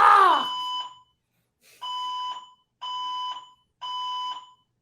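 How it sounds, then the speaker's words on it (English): A building fire alarm sounds during a drill, giving loud, close electronic tones in a steady pattern of three-quarter-second bursts separated by short silences. "They were doing like a fire alarm drill today"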